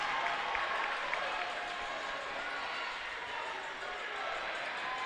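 At a college basketball game between the Lambton Lions and the Humber Hawks, a home crowd roars steadily in a gym after a missed free throw. The cheering and applause stay loud for about five seconds, with voices mixed in.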